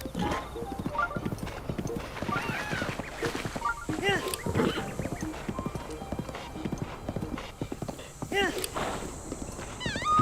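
A horse in a Zelda video game clip-clops along in a brisk, steady hoof rhythm, with a brief whinny and occasional talking and background game sounds throughout.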